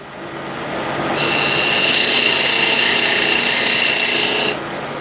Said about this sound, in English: Back with the small 10 mil spindle gouge.